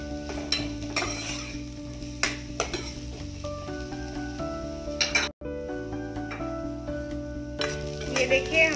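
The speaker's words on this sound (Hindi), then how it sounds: "6 से सौते करना है और तब तक करना है जब तक कि ये प्याज लाइट ब्राउन न हो जाए।" Chopped onions sauté in a hot pan until light brown, a steady sizzle broken by bursts of stirring and a few clinks of a utensil, with tonal background music running underneath.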